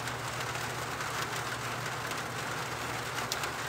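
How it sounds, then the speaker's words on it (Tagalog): Heavy rain pours down steadily in a dense, constant hiss, loud and close, with no voices over it. "Lakas yata ulan dyan."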